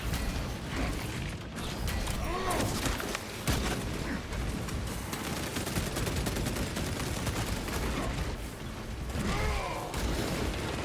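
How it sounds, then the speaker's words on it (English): Heavy bolter fire in Space Marine 2 against a horde of Tyranids, a continuous dense stream of rapid shots that stays loud and steady throughout, layered with clanking mechanical and creature sounds. "what better showcase of the heroic heavy bolter than fighting off the entire horde of Tyranids"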